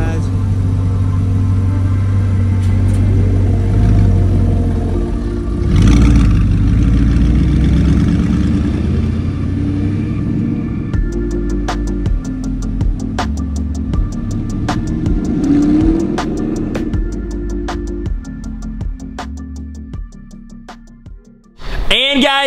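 An Audi R8 sports car engine idles with a deep, steady hum, then blips and revs in several sharp bursts, close and loud, before cutting off near the end.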